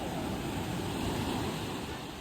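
Strong ocean waves break on a beach in Mexico, a continuous roaring wash of surf mixed with wind buffeting the microphone.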